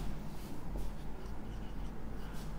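Steady scratchy writing on a board during a Hindi-language English grammar lesson, a continuous close rasp over a low room hum with no talking.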